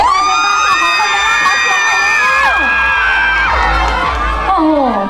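A crowd at a Cathy Doll concert event in Ubon screams and cheers loudly and continuously, high shrieks sliding in pitch over a dense roar, with cries rising and falling throughout.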